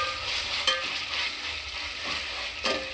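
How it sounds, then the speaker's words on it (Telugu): Ginger paste sizzles steadily in hot oil in a pan for bagara rice, with a few sharp stirring scrapes breaking through the continuous frying hiss, close and fairly loud. "1 స్పూను అల్లం పేస్ట్, ఇది కూడా పచ్చివాసన పోయే వరకు బాగా వేయించుకుందాం ఫ్రెండ్స్"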